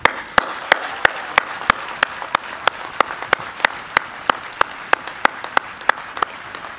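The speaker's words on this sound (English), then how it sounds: "I'd like to salute you by offering you a hearty round of applause." Steady applause from an outdoor audience at an Independence Day naturalization ceremony at Monticello, a continuous wash of clapping with one set of close, loud, evenly spaced claps standing out in a regular beat.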